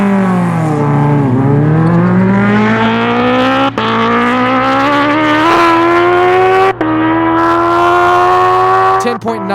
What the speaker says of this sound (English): Graham's H2 is going to make the next pass.